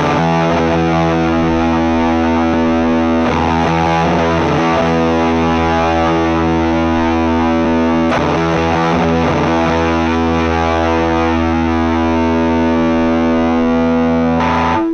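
Electric guitar played through a distortion effect in Ableton Live: thick, sustained distorted chords ringing loud and steady, with a few fresh strums and a muted scratch breaking the sustain.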